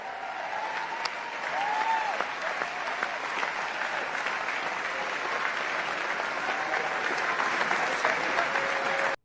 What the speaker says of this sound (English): It was the largest applause I've ever heard